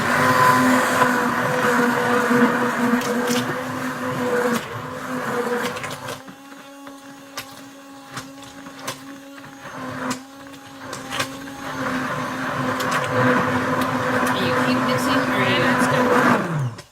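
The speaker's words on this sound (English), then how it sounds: "let's stick blend it down" A stick blender mixing hot process soap whirs loudly in bursts, pausing in the middle while a person talks, then running again with a steady motor drone.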